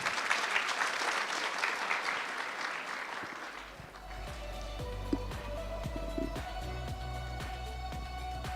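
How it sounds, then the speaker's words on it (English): Audience applause for innovators at a national ICT summit, a broad wash of clapping for roughly four seconds that fades out and gives way to quieter room noise with faint clicks and a low hum. "Can we please give them a round of applause?"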